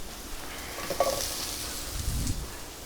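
Zucchini slices frying in a hot pan give a steady, close sizzle with a few soft rustles and a low bump near the end, no talking.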